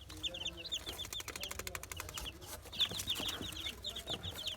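Rapid, high-pitched peeping from many chicks in a brooder fills the clip, steady and close, with some faint clatter in the background.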